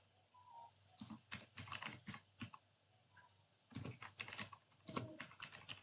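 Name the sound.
typing a kubectl command on a computer keyboard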